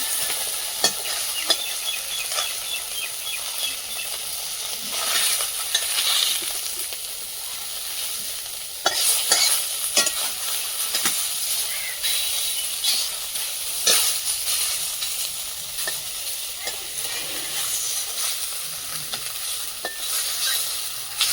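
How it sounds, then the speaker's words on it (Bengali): Fish fry in a pan with a steady, loud hissing sizzle that runs throughout, dotted with sharp spitting pops and occasional scrapes of stirring. "পোড়া মাছগুলো ভালো করে ভাজছো?"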